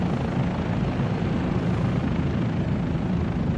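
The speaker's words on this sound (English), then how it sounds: "of this helicopter, Bell 407, and this is amazing." Bell 407 helicopter in Microsoft Flight Simulator 2024, heard from a seat in the back: a steady, loud cabin drone with dense low rotor throb and broad whine, unbroken throughout.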